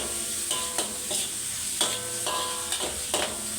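Tomatoes fry in oil for an egg sambal while a spoon stirs them, a soft steady sizzle broken by about eight quick scraping strokes against the pan, close and without voices.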